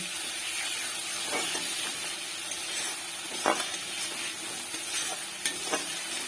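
Spiced masala with added sugar sizzles and fries steadily in an oily pan, a broad, constant hiss with a few soft stirring scrapes and clicks on top, close and even throughout.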